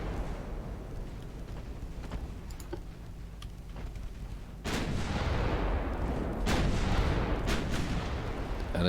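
Heavy naval guns fire in Ultimate Admiral Dreadnoughts during a British 1900-era campaign battle at long range, a low rumbling ambience broken by a few booming salvos in the second half, moderately loud and without talk.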